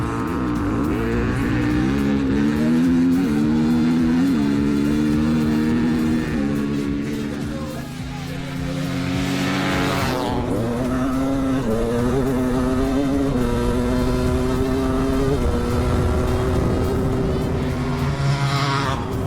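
Two dirt bikes race head to head, a Yamaha YZ500 two-stroke against a Kawasaki KX450 four-stroke race machine, their engines screaming loud and close throughout with pitch swells and a brief dip midway.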